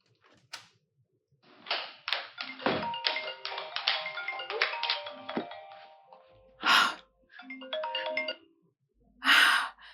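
A mobile phone rings with a bright electronic tone, a rapid run of repeated beeping notes, then a shorter burst after a pause, heard fairly close in an indoor drama scene with brief breaths and knocks around it.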